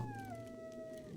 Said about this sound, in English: Wow, I hear a coyote.